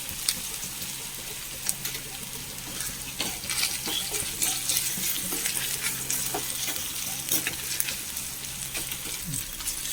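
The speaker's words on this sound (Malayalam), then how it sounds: "വെളുത്തുള്ളി പെരിഞ്ചീരകം എല്ലാം കൂടി ഒന്ന് ചതച്ചതാണ് അപ്പോൾ അതൊന്ന് മൂത്ത് വരയ്ക്കാം" Crushed garlic, fennel, green chilli and curry leaves fry in hot oil with a continuous soft sizzle, punctuated by scattered pops and light scraping of stirring, fairly close and quiet.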